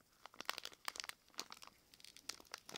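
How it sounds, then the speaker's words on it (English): Crinkling and tearing of a plastic blind bag package from Tesco as someone tries to rip it open by hand, a run of sharp close crackles and rustles in bursts. "I'm going to see if it works if I rip it"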